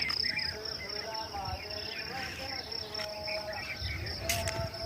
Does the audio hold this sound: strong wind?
no